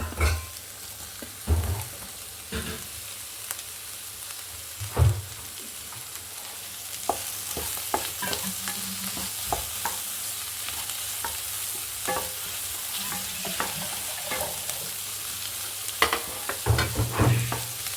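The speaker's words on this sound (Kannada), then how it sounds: "ಒಂದು 2 ನಿಮಿಷ ಫ್ರೈ ಮಾಡೋಣ. ಆ ಮಸಾಲೆ ಒಳಗಡೆ ಪನ್ನೀರ್ ಫ್ರೈ ಮಾಡಿದ್ರೆ ತುಂಬ ಟೇಸ್ಟಿಯಾಗಿ ಬರುತ್ತೆ." Small paneer cubes frying in masala in a pan, a bright continuous sizzle under repeated close stirring scrapes and occasional utensil knocks, steady throughout with no talking.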